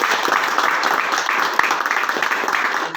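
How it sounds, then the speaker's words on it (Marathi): A group gathered at a trip event applauds loudly, dense sustained clapping with a few voices mixed in throughout. "सर्वांनी पहिल्यांदा जोरात टाळ्या वाजवा"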